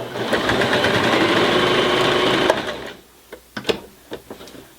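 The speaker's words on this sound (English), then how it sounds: "So now we're stitching through 4 layers of denim." A beginner's sewing machine drives its needle rapidly through four folded layers of dark denim in a steady, buzzing run that stops after a couple of seconds, followed by a few sharp clicks and taps.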